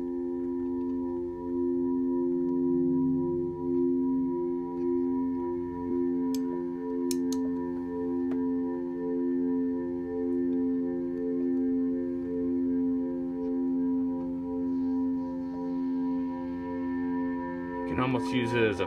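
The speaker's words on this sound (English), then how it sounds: "Maybe add some reverb." A sustained electric guitar note rings on through an Empress ParaEQ pedal with reverb, a steady tone with clear harmonics holding for many seconds before a brief pick attack near the end.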